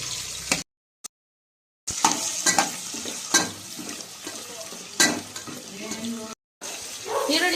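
Onions fry with turmeric in a pan, sizzling under clatter and scraping stirring strokes, with brief gaps of silence between bursts.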